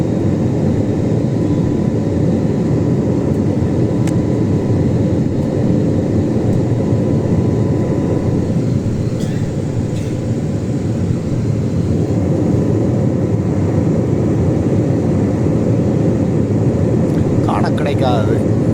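Steady, loud roar of airliner cabin noise a few minutes after takeoff on a flight from Saudi Arabia to Sri Lanka, a constant broad rumble that never lets up.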